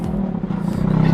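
A 2012 Mazda RX-8 Spirit R rotary engine idles close by with a steady, even burble over a short stretch.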